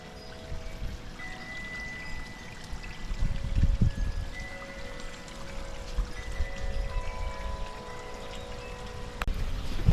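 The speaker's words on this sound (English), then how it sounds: "right now I'm just eager to put some water in it" Water pours and trickles steadily into a newly built backyard pond, a soft, continuous flow with a fuller, splashier surge partway through.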